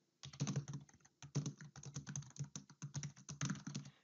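Someone types a record number on a computer keyboard, and the close, crisp key clicks come in quick irregular bursts with short pauses between groups.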